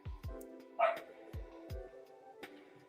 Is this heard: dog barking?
yes